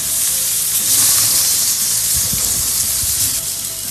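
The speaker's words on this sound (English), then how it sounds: "Grill 4 to 5 minutes each side." Food sizzles loudly and continuously on an oiled grill over medium heat, a dense, close, hissing crackle that holds steady throughout with no speech.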